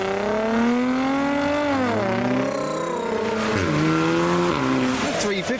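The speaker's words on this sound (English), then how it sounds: "The Lexus has been making Chewbacca noises." A modified Lexus leaving a car show in heavy rain revs hard, its engine note sweeping up and down in loud rising and falling whines, close by with rain and faint talk in the background.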